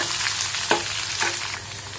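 Chopped onions frying in a pan after chana dal has browned: a constant close sizzle with a couple of quick stirring scrapes, no talking.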